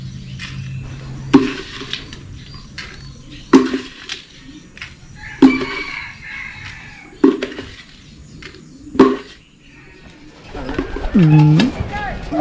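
Racing pigeons coo softly between loud, sharp knocks and clatters that repeat every couple of seconds, with a voice heard near the end.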